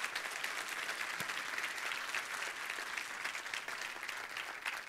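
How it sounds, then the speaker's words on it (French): Applause from a church congregation for the youth ministry team, steady, dense clapping filling the room throughout, fairly distant and even with no voices over it. "je pense que ça mérite une main d'applaudissement pour le travail qui est fait"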